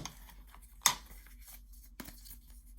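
A single sharp paper cut or snip, close and brief, for notching a paper journal pocket, followed later by a softer rustle in a quiet room, with no voices.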